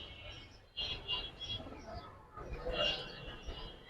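Soft pigeon coos repeat close by in short rounded bursts, with quiet rustling and a faint background hum.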